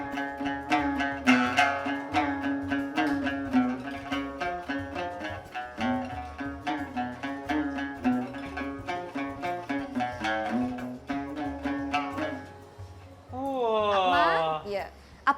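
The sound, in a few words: zhongruan, Chinese wooden plucked lute, being played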